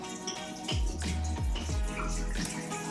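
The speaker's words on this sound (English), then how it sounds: "Glug, glug, glug into the Glühwein." A full bottle of Syrah wine pours into an Instant Pot for Glühwein, with several distinct gulping glugs from the bottle neck over a steady splashing stream, close and clear without talk.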